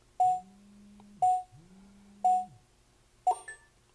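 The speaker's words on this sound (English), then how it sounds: "you heard it beeping, it counted down, and it turned itself on" A budget home alarm system beeps through its arming countdown: three evenly spaced electronic beeps about a second apart, then a final, different chirp as it switches on, close and clear in a quiet room.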